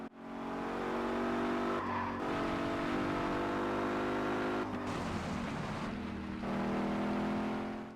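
Generic racing car engine sounds from the Nintendo Switch game Gear Club Unlimited 2, a steady, loud engine drone with rising revs and brief dips at gear shifts, uninterrupted by talk.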